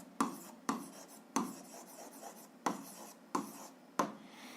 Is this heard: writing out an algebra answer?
yes